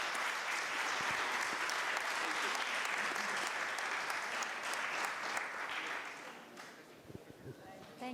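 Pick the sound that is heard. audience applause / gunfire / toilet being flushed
audience applause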